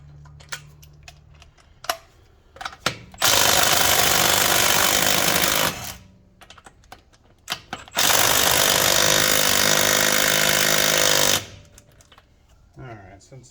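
Impact wrench fitted with an adapter working on truck wheel nuts, two loud sustained rattling bursts of a few seconds each, separated by clicks and handling noises, with a voice speaking at moments between them.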